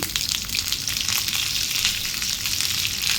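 Onion drops into hot oil with curry leaves for tomato chutney, giving a loud, steady frying sizzle with crackling spatter that fills the whole moment close-up, with no voices.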